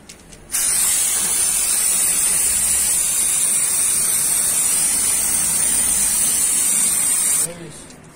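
A steady, loud aerosol spray of brake cleaner on a Honda Activa S scooter's rear brake hisses continuously for several seconds, starting and stopping abruptly.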